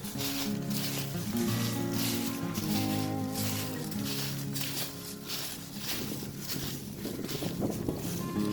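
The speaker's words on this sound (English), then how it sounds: "Windy up on this ridge." Wind gusts and buffets across a ridge on the Laurel Hill northern trail, a close rushing hiss with shifting rumbling surges and footsteps crunching beneath.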